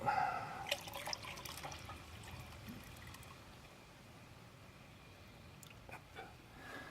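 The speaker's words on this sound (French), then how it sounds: "On va vider un peu d'eau." Water pours and trickles from a gold pan while panning for gold, a faint, close splash and dribble that tapers off into a soft, steady trickle with a few light drips.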